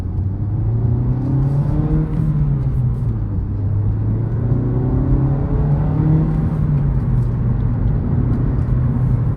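A Honda Civic Type R FL5 pulls with a steady, loud engine drone and rumble, its pitch rising and falling gently as it accelerates under load, heard from inside the car with road noise throughout.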